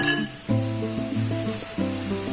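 Peeled garlic and green chillies fry in hot oil for a Kerala prawn pickle, with a continuous crackling sizzle that steps up in bursts as the pieces are stirred.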